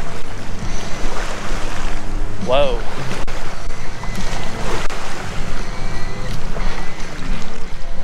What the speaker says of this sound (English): Some waves, man.